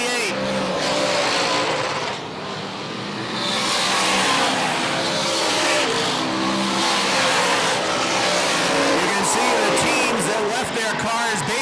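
Race cars circling a track at a night event, engines roaring loudly and continuously as they pass and slide through corners, with an announcer talking over the din.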